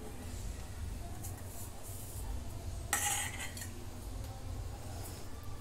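Spice powders are mixed into chicken in a bowl, giving quiet scraping and clinking of a utensil against the dish, with a brief brighter clatter partway through, set against faint background noise.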